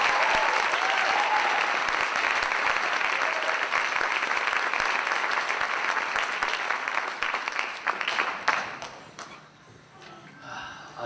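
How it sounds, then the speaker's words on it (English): An audience at a jazz workshop concert claps in a loud, sustained round of applause that fades out over the last few seconds. "Please give a warm round of applause to Denise Trent."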